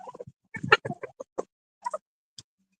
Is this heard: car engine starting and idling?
no